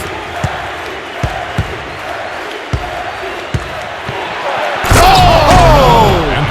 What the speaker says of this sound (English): slams it in two-handed